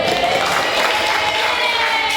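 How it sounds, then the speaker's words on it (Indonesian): Audience at a school awards moment applauding and cheering for a third-place winner, a steady dense wash of clapping and crowd noise filling the whole stretch without a break. "Kasih tepuk tangan dulu."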